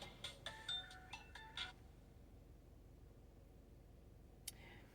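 A phone rings in a quiet room, several short bright electronic chimes in a quick patterned burst during the first two seconds, fairly close but soft, followed by near silence and a single faint click.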